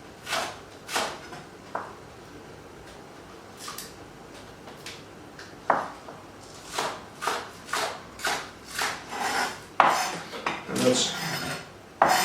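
A knife chops spring onions on a board: scattered crisp clicks at first, then a quicker, louder run of regular chops toward the end, close up with no talking.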